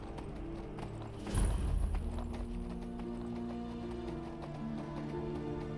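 Horse hooves clip-clop in the video game Skyrim, a steady trotting rhythm that starts with a louder burst, then continues evenly at moderate volume over a soft background.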